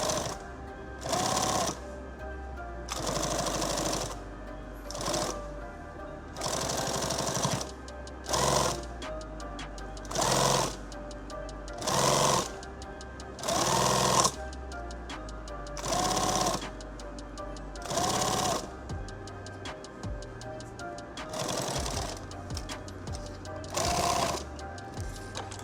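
A sewing machine stitches webbing for a shooting mat in about ten quick, loud bursts separated by short pauses, nearby and steady.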